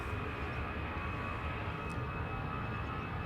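Steady, distant roar of a wide-body aircraft departing Amsterdam Schiphol Airport, a broad continuous rumble with a faint high whine held at the same level throughout.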